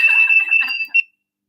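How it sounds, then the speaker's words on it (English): A steady high-pitched whistling tone runs for about a second over faint background noise, then cuts off abruptly into silence. "I don't even know what the whistling is."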